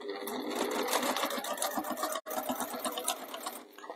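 Bernina sewing machine with a broken stitch-length control stitching a cushion: a fast, close mechanical whirr runs continuously, broken by one brief pause midway before resuming.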